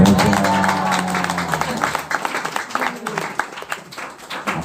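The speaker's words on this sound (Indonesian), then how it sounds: "Tepuk tangan." Applause and clapping from a crowd, dense and steady, with some talk mixed in near the start and tapering into scattered claps.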